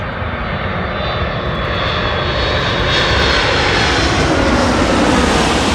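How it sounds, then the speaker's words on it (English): Delta Airlines Boeing 757-300 arriving to land at Los Angeles International Airport, a loud, broad jet engine roar that grows slightly stronger as it passes close overhead, with no talking. "This is a Delta Airlines 757-300 coming from Detroit Wayne County International Airport."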